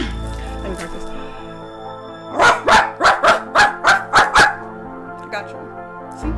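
A voice imitates a dog barking in a deep tone, about eight rhythmic woofs in a quick series, close and loud, with some speech-like vocal sounds before and after.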